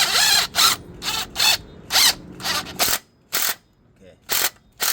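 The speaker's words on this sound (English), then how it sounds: "Okay, about to tighten the belt at the bottom." Ratchet tightening the serpentine belt tensioner on an Infiniti G35 Coupe, a series of sharp clicking bursts in an uneven rhythm, loud and close, with no voices.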